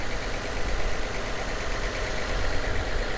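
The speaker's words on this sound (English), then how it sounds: "Engine is nice and quiet" A car engine idling quietly at a Copart salvage yard, with a steady low rumble and even hum, continuous and moderately close, without voices.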